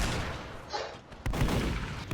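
Gunfire and explosions in a Roblox zeppelin air-war game crackle in a dense burst, with a sharp loud blast near the middle and a heavy rumbling barrage after it.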